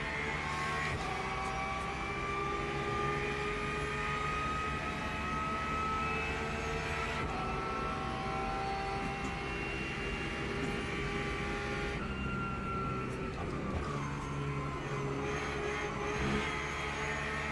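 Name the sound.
race car engines at Le Mans in a racing video game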